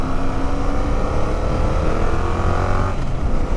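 Yamaha MT07 streetbike ridden on a gravel road, a close, loud, steady engine drone with rushing wind noise and no talking.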